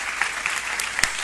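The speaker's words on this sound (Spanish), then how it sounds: "Un aplauso a la compañera." A short round of audience applause at a university teaching research conference, steady clapping from a seated crowd lasting just over a second, moderately loud with no talk over it.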